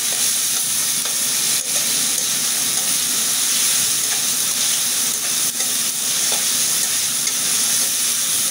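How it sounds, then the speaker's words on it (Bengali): Spice paste with green chilies sizzles and fries in a pan while being stirred, a dense continuous hiss with occasional scraping knocks from the spoon, close and alone. "আমি আবার একটু কষিয়ে নেব। কাঁচামরিচ দিয়ে দিলাম।"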